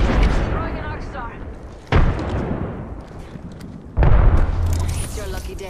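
An arc star grenade goes off in a shooter video game, two sharp blasts spaced about two seconds apart, the second followed by an electric buzzing hum, all over steady game noise and players talking.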